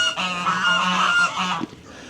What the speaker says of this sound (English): Geese and ducks are fed.